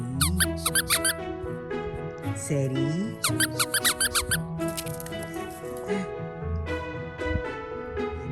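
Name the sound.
dog's squeaky toy squeaking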